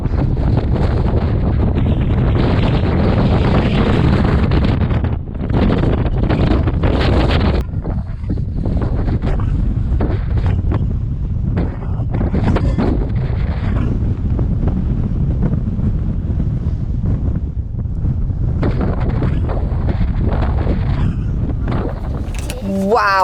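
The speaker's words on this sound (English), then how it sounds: "the wind here is insane" Strong wind at Nordkapp, Norway, roars steadily and loudly across the microphone for the whole stretch, gusting and buffeting in broad low rumbles with brief dips, and a faint voice breaks through near the end.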